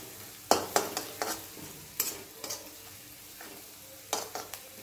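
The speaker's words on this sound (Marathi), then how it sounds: "यामध्ये थोडीशी हळद घालायची आहे आणि व्यवस्थित हे परतून घ्यायचं आहे" Green chillies with turmeric are sautéed in a pan, a quiet sizzle punctuated by sharp spoon scrapes and clinks against the metal at an irregular stirring rhythm.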